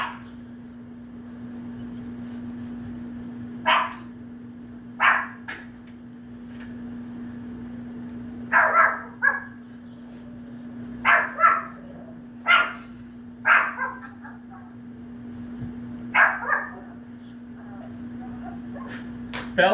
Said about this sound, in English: I hear you barking